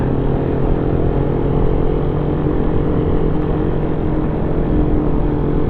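A Kawasaki Ninja 1000cc motorcycle engine, a steady, loud droning rumble that holds evenly throughout with no revving swells and no voices over it.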